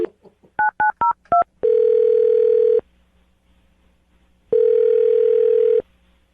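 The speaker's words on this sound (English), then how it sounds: "I'm going to dial her phone number right now" A phone number punched in as a quick run of touch-tone keypad beeps, followed by two long, steady ringback tones separated by a pause, all loud and clear with no talking.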